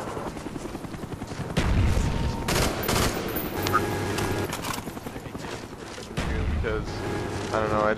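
M16 rifle fire in a first-person shooter game's team deathmatch on the Firing Range map: sharp shots and bursts ring out over continuous game noise, with loud impacts and a rumbling background throughout.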